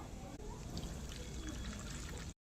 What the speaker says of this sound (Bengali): সুজির ব্যাটার বানানোর জন্য প্রয়োজন মতো দুধ ঢেলে দেব